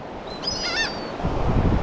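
Several harsh bird squawks in quick succession ring out over a steady wash of wind and surf on a beach, followed by a louder roll of waves.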